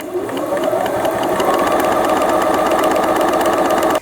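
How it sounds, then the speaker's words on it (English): A domestic sewing machine runs steadily under foot-pedal speed control, giving a continuous close mechanical whir with a fast stitching rhythm throughout and no voices. "The harder you press down, the faster the machine is going to go."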